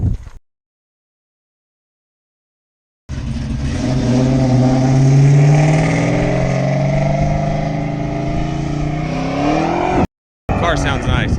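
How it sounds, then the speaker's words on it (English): A Dodge SRT-4 engine revs loudly and close during a race run, with the pitch climbing and dropping through gear changes for several seconds between brief silent gaps. "Car sounds nice."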